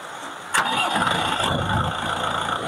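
A tractor engine cranks to life with a sudden sharp catch, then settles into a rough, rumbling idle that carries on steadily at close range.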